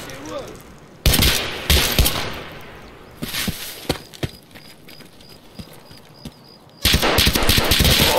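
Loud bursts of automatic gunfire in Escape from Tarkov come in three separate volleys, close and sharp, with scattered single shots and quieter movement sounds between them. A voice is faintly present.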